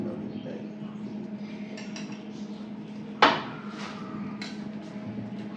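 A metal serving utensil strikes a dish once with a sharp clink as rice is served at an Onam meal, amid soft kitchen clatter and quiet voices.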